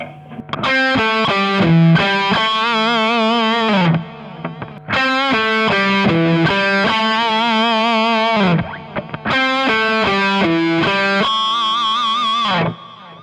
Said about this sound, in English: So throw in the pinch harmonic if you want.